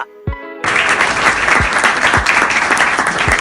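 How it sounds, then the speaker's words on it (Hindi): A burst of dense applause starts suddenly after a brief quiet moment and carries on steadily and loud, with a few low thumps under the clapping. "तालियां"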